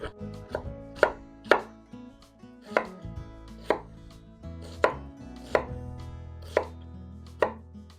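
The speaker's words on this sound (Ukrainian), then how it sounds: "Цибулю теж нарізаємо як зручно." A knife chops through an onion on a cutting board, cutting it coarsely into half rings, about a dozen sharp, close strikes at an uneven pace, with no talking.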